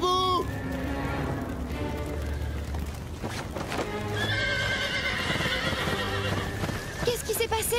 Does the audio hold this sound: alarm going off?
no